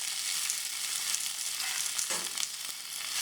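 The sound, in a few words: ivy gourd and curry leaves frying in coconut oil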